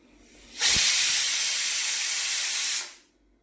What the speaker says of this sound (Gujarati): 3-4 સીટી મારી દઈએ, પછી જોઈ લઈએ.